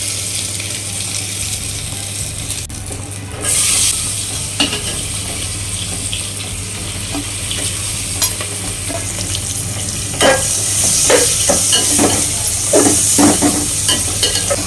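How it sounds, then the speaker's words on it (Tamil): Sliced onions, dried red chillies, curry leaves, mustard and cumin sautéing in hot oil for sambar, a steady close sizzle with scraping stirs and clatters growing busier toward the end, no voices. "வெங்காயத்தை ஒரு 3 நிமிஷம் வதக்கி எடுத்துக்கோங்க."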